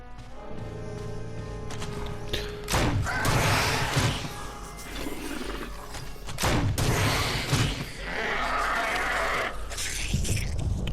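Acid grenade rounds fire at hunters in the Resident Evil remake game: a few loud bursts and impacts with splattering, crunching noise, separated by quieter stretches of game ambience.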